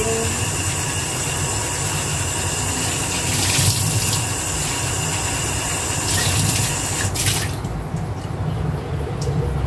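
Food is washed under a running kitchen tap, with a steady loud rush of water splashing into a sink throughout and small shifts as the food is moved in the stream.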